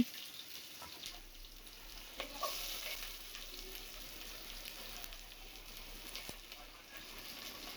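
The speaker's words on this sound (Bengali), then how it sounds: "আমরা একটু পেঁয়াজগুলোকে ভেজে নিচ্ছি প্রথমে" Onions frying in a pan as the first step of a Chittagong-style loitta fish curry, with a steady soft sizzle and occasional stirring scrapes, close and fairly quiet, with no talking.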